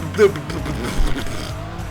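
A Dodge Viper engine in the video game Gran Turismo 2 hums low and steady with a brief squeal of tires, while a voice talks over it.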